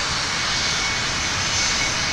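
Aircraft engines roar loudly and steadily at ground level beside a runway at DFW Airport, a continuous wideband wash with no pauses.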